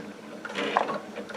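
A Baby Lock Altair sewing machine runs steadily, stitching binding onto a quilt with a soft, quiet mechanical whir.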